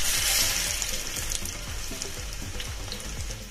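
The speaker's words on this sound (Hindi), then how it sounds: "लहसुन को हमें बिल्कुल लो फ्लेम पर फ्राई करना है" Two spoonfuls of finely chopped garlic fry in hot oil over a low gas flame, giving a steady, close sizzle with soft crackle that runs without a break and with no voices.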